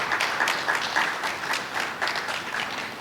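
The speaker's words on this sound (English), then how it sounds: "Can we give her another round of applause?" An audience applauds the sheriff at a public discussion on traffic stops and policing, with steady, dense clapping filling the room throughout at a fairly loud level and no talk over it.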